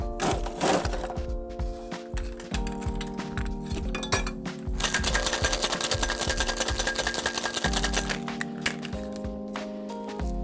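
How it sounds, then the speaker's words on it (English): Cocktail shaker packed with ice, mezcal and Yellow Chartreuse shaken hard, a loud, steady rapid rattle and clink of ice against the tin that quickens and thickens midway, with no talking. "Next, we're gonna add some ice and shake."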